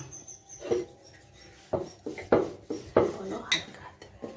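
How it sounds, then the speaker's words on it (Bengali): Onion paratha dough being rolled out with a rolling pin in a home kitchen, giving a series of soft thuds and rubbing knocks at an uneven rhythm, close and moderately loud, with a faint voice in the background. "এখন আমি বেলে নেব"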